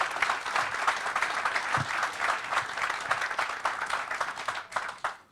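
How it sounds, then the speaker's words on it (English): A crowd applauds steadily for several seconds at a land dedication ceremony, dense clapping that holds level and then cuts off abruptly at the end. "So can we do a quick round of applause for them as well?"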